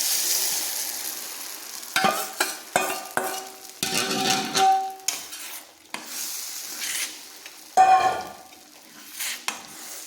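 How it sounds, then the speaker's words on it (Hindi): Mung dal paste sizzling in hot oil with a pinch of asafoetida, a loud steady fry broken by clattering stirs and scrapes of a spoon against the pan. "तेल गरम हो गया है, थोड़ी सी हींग डाल दिए हैं और ये जो अपना है ना ये पेस्ट,"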